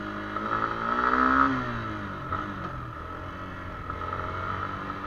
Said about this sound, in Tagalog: napakalakas ng motor na to. Grabe ang torque. Dumadamba.